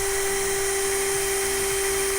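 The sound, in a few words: power drill re-drilling a hole in a boat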